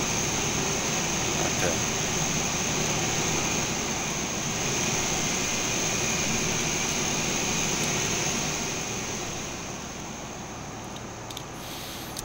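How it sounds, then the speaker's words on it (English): The auxiliary power unit of a Q400 airliner in a flight simulator game, exhausting from the tail, gives a steady loud whine and roar that holds throughout and eases slightly near the end, with a brief spoken word over it. "You can hear the APU, which is of course exhausting out that little hole there in the tower."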